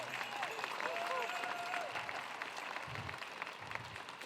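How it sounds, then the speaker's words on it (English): Audience applause at a Lumbee Days cultural presentation, a moderate, steady patter of clapping with a faint tonal whistle or feedback early on and some low thumps partway through. "So I just want to give all of them a round of applause."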